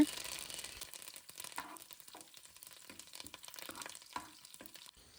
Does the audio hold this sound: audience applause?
no